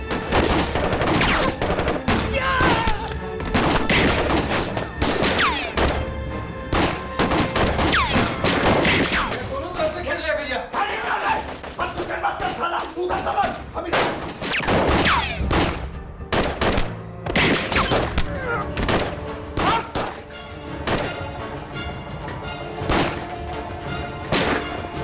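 Heavy gunfire in a TV serial action scene: dense bursts of shots and rapid volleys with crashes and thuds, loud and continuous for most of the stretch, easing briefly in the middle before resuming.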